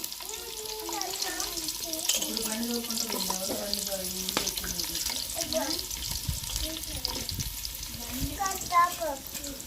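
Onion frying in the reused deep-frying oil for a tempering, a continuous sizzle with scraping stirs, while a voice talks over it.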